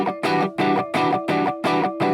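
Distorted electric guitar chords strummed in an even pattern, with accents falling on the numbered beats and the offbeat ands, six heavy pulses played loud and close with no talking.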